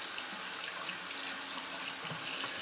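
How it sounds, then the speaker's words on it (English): Water runs steadily from a bathroom tap into a sink while a face is rinsed, a continuous close hiss and splash with faint shifts as hands move through the stream. "just gonna go ahead and rinse off my face"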